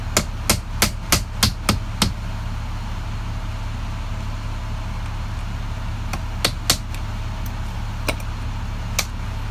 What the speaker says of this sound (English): I'm gonna push this pin into place.